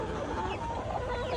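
Chickens cluck busily up close as they are fed dough, a dense, continuous flock chatter with no voices.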